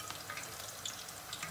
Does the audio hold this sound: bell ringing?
no